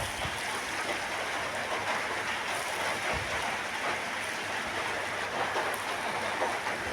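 White cumin seeds sizzle in hot oil in a wok, a steady, dense crackling hiss that holds evenly throughout with no speech.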